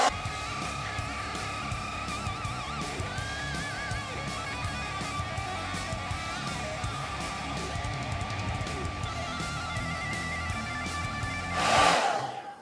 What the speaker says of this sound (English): We're going to have to bring the trusty hairdryer in here.